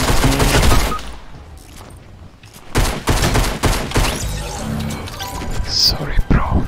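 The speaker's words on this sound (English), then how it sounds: "someone is shooting at me" Gunfire in Fortnite, bursts of rapid close shots and sharp cracks with quieter gaps between, loud, with a player talking over it.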